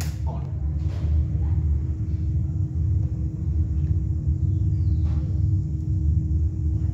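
Aircraft engine at low idle during a right ignition start, a heavy low rumble with a steady hum, running continuously under intermittent cockpit speech.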